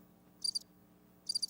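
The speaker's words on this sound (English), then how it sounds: "Them crickets out there," Crickets chirping outdoors at night, two short bursts of high, rapid trills separated by a pause, faint over a low steady hum.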